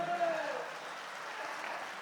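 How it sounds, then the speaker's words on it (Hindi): Light, thin applause from the audience at a Hindi kavi sammelan poetry gathering, a soft hiss of scattered clapping rising briefly just as a voice trails off. "तालियां बहुत कमजोर हैं आपकी, देखो ऐसे मामला जमेगा नहीं।"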